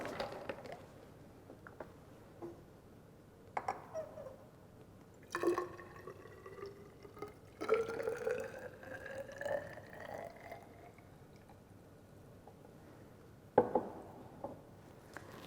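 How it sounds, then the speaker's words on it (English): Two molar hydrochloric acid is poured from a measuring cylinder into a glass beaker in a chemistry lab, giving a soft liquid trickle with a rising fill tone and a few light glass taps, quiet and close. "we will measure 150 ml of 2 molar HCl using a measuring cylinder, transferring the excess into the beaker"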